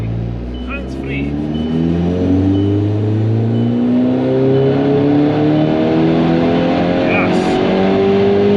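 A K04-turbocharged Mk5 Golf GTI revs hard on a dyno, its engine note climbing steadily through the gears, loud and close and sustained throughout.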